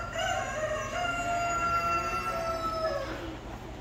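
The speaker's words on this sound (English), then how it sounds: "As soon as I walk away, I know you're gonna crow." A reserve champion rooster at a county fair gives one long, loud, drawn-out crow close by, with no talking over it.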